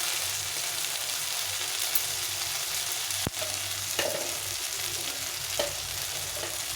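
Tengra fish frying in a pan with salt and turmeric gives a steady, close sizzle with a few soft stirring scrapes and clinks, and no one speaks.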